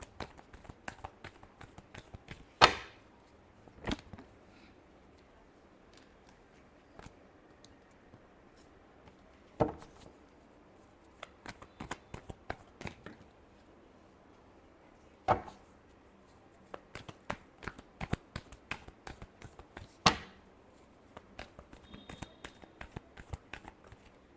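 Tarot cards shuffled by hand in a quiet room: soft, irregular riffles and flicks with a few sharper slaps, close and faint, with no speech.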